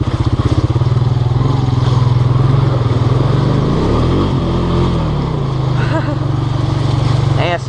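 A Honda Rancher four-wheeler ATV's engine chugs with a loud, steady, throbbing putter while riding, the pitch dipping and rising slightly midway, with a voice faintly mixed in.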